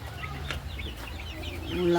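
Fancy crested chickens from Kottakkal cluck in short scattered calls over a steady low background hum, growing a little louder toward the end.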